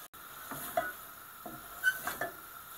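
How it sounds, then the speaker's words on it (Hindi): Tuna fish and potatoes frying together in a pan, giving a quiet, soft sizzle broken by a few scraping stirs and light clinks of the spoon against the pan. "पोटैटो के साथ टूने फिश को भूनते हुए मुझे 3 मिनट हो गए हैं।"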